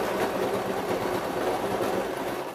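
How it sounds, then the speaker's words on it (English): A sewing machine runs steadily and loudly, stitching the folded fabric corners of a backpack made from a jacket, with a dense even whir throughout before it slows at the end. "Secure that in place with a little stitch about 2-3 centimeters away from the edge."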